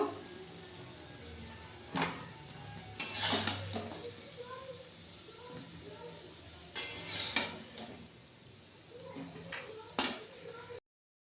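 Boiled drumstick pieces and potatoes are scooped out into a pot, giving several sharp clanks of a metal spoon against cookware spaced apart over low kitchen background noise.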